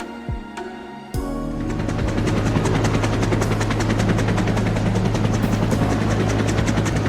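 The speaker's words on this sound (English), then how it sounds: "On the helicopter." Roblox helicopter in a tower obby game: after a brief quiet start, a loud steady rotor drone with rapid chopping pulses runs continuously, close and dominant, with no talk over it.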